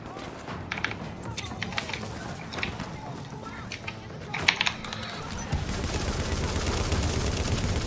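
Sharp gunshots crack repeatedly over a busy video game soundscape at the Lincoln Tunnel checkpoint on very hard difficulty, drawing several enemies, with footstep-like clatter and a dense, steady background din.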